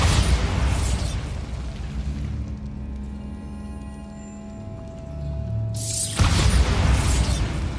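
Bombarda spell in Hogwarts Legacy bursting with a loud explosive blast, a quieter resonant lull with low tones, then a second heavy boom near the end.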